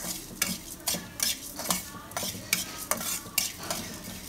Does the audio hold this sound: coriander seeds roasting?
yes